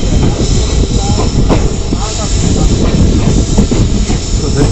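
A passenger train pulls out of Udupi railway station, heard from inside a compartment as a loud, continuous rolling clatter with hiss and rhythmic wheel knocks, a voice talking faintly beneath.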